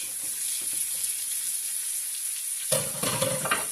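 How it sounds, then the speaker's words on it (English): Vegetables sauté in oil with a soft continuous sizzle that swells suddenly into a louder crackling hiss as more goes into the pan, close up with no talking. "I'm going to saute my veg"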